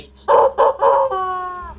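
A chicken in the video game Resident Evil Village crows loudly and close, three sharp bursts followed by a drawn-out tonal call, heard alone with no talking.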